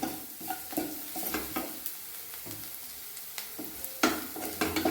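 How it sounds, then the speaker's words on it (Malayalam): Food sizzles in a hot pan while a spoon stirs it, giving repeated scraping clatters over a steady frying hiss. Nobody speaks. "ഇത് നല്ല മാതിരി ഇളക്കി കൊടുക്കുക."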